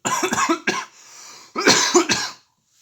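A hoarse voice coughs several times in two close bursts, separated by a breathy pause, loud and near.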